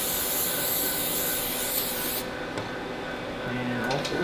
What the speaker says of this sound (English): First thing we gotta do is spray a little pallet adhesive spray on the boards to keep the shirts in place